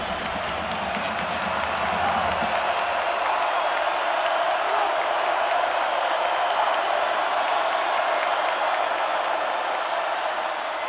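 A packed stadium crowd roars and cheers steadily throughout a college football game between Memphis and East Carolina, a dense, continuous wall of noise. A lower voice is heard briefly at the start.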